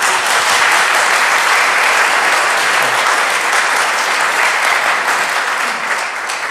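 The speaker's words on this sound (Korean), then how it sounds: "박수 한번 해주시죠" A church congregation at a Tuesday prayer meeting bursts into loud, sustained applause, dense clapping from many hands that fills the room evenly and fades slightly at the end.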